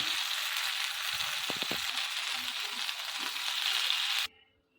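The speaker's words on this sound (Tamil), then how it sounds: "அப்படியே போட்டு ஒன்று ஒன்றா ஃப்ரை பண்ணி எடுத்துடலாம்." Chicken pieces frying in hot oil on a tawa, a soft, steady hiss that holds evenly and then cuts off abruptly near the end.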